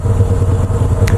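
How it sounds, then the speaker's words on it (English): A Moto Guzzi V7 II motorcycle being ridden on Swiss roads gives a steady, close, low engine rumble and drone that holds without a break, with no talking over it. "Been riding this Moto Guzzi"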